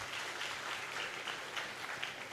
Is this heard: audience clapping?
yes